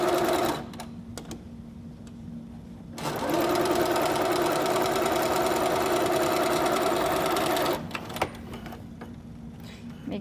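Sewing machine stitching binding onto a quilt, a steady close mechanical whir running continuously for several seconds, with quieter motor hum and light handling noises before and after.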